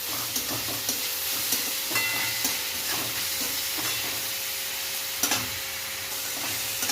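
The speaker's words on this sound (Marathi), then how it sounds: "कांद्याची पात पण व्यवस्थित स्वच्छ धुवून कापून घ्यायची. त्याला पण असं व्यवस्थित परतून घ्यायचं." Chopped spring onion greens sautéing in a pan for homemade chow mein, a continuous close sizzle with irregular spatula scrapes and taps, no talking.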